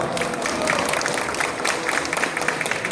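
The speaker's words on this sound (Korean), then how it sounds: "여러분 뜨거운 박수 부탁드리겠습니다." Applause from the audience at a national Hanwoo cattle competition award ceremony, a steady crowd clapping with some cheering mixed in, fairly close and continuous.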